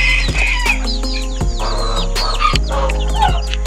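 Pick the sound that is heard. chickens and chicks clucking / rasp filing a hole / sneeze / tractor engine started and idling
chickens and chicks clucking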